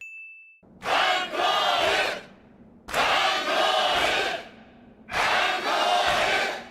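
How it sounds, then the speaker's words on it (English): Crowd chanting from the Kill la Kill anime, three loud sustained bursts of many voices in unison separated by short pauses, with a brief high tone at the start. "Trigger can make a crowd sound like it's got 50 to 100 people in it chanting"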